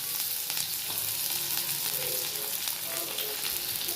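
Onion and curry leaves fry in a pan for wheat rava upma, a steady loud sizzle with crackling pops throughout and no talking.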